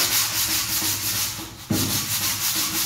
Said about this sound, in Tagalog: So, kailangan natin lihain.